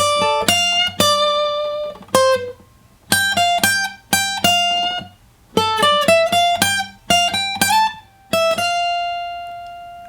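A guitar plays a phrase from an unplugged solo, clear plucked notes in short bursts separated by brief gaps, with a final note left ringing.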